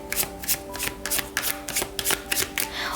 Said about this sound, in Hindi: मैं थोड़ी सी और कार्ड्स लेना चाहूंगी आपके लिए।